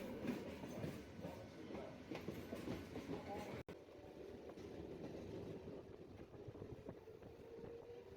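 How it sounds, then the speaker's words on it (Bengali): A down Tarkeshwar–Howrah local train crosses past on the adjacent track, heard from inside another moving local as a steady, fairly faint rumble and rattle of wheels with voices talking underneath. "down Tarakeswar Howrah local cross করছে"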